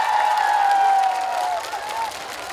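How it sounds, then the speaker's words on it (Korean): Audience applauding at an outdoor trot song festival on a beach, a dense wash of clapping and crowd noise with a sustained tonal line running through it, moderately loud. "박수 한번 부탁드립니다"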